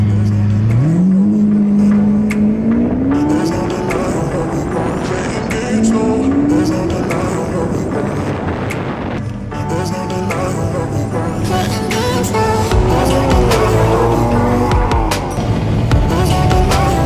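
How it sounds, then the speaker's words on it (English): A Lamborghini supercar roars close by, its engine rising in pitch through repeated loud revs and accelerations, with busy street noise around it. "Lamborghini."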